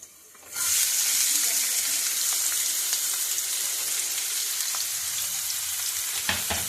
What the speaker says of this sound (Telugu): కళాయి పెట్టేసి నూనె వేసాను.